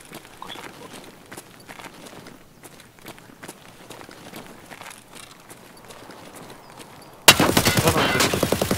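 Gunfire in Escape From Tarkov erupts as a loud, rapid burst near the end, after several seconds of quiet footsteps and movement shuffling close by.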